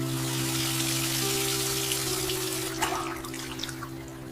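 Water runs steadily from a bathroom sink tap while someone rinses their mouth, a close continuous splashing that eases off near the end with a few small splashes and drips.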